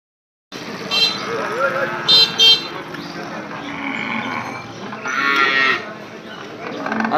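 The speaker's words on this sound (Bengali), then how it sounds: "তো হাটে একের পর এক এই গরু আসতেছে একের পর এক" Cattle arriving one after another at a rural livestock market bellow loudly nearby in several long moos, over a busy background of voices and passing vehicle noise with a short horn toot.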